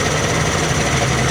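A rebuilt Yamaha 75hp outboard engine uprated to 90hp runs slowly with a steady, loud low-pitched hum and faint vibration, with no talking over it.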